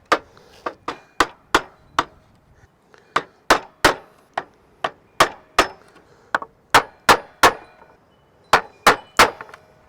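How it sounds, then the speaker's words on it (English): A hammer drives a chisel to cut a notch in a hemlock timber that splits badly. About twenty loud, sharp blows land alone in quick irregular bursts with brief pauses between. "Now he's going to try and chisel it out."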